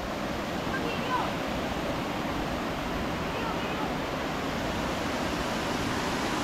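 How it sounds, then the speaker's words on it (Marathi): A natural waterfall near the double decker root bridge in Meghalaya roars steadily in a dense, continuous rush of water. "बघू शकता नॅचरल धबधबा आहे हा"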